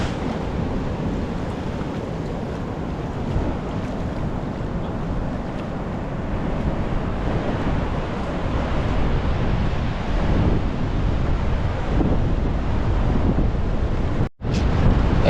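Calm water laps gently in a rock-ringed tidal pool at Casiguran, Aurora, as a steady, close wash of surf blends with rushing wind buffeting the microphone, continuous for the whole stretch with a brief dropout near the end.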